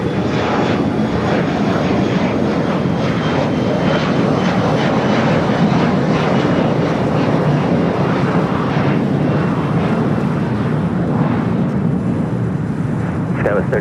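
An Air Canada airliner rolls for takeoff on runway 25 right at LAX, a loud sustained engine roar filling the scene from start to finish.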